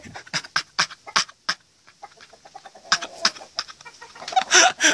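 Chickens cluck nearby in quick, sharp bursts, pausing briefly before a busier flurry of clucks and squawks.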